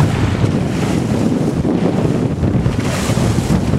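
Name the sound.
crosswind on a sailboat at sea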